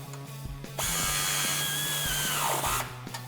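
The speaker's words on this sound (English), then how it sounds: "Grabbing our 15mm socket, we can now tighten down the very first clip at the front of our muffler." A 15mm socket and power tool tighten a muffler clamp on a 2009-2018 RAM 1500 exhaust: a steady close whirring drone for about two seconds that winds down, over a faint background hum.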